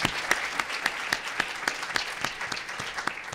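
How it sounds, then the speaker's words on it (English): Audience applause following presentations at a public panel event, a steady patter of many hands clapping with sharp individual claps standing out, moderately loud and continuous throughout. "I think we should probably start with another round of applause for those wonderful presentations."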